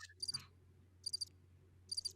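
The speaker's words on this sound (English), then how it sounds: "Crickets. That's pretty close." A crickets sound effect from a soundboard plays three evenly spaced bursts of high, trilling chirps over a low steady hum, with no talk.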